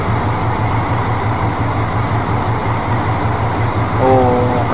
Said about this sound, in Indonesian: Oh, kereta api kita teman-teman